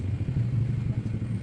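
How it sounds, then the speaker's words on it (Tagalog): A Yamaha Gravis scooter engine, misfiring, idles with a low, steady, slightly uneven rumble, close by and moderately loud. "Pa-start ko na itong makina."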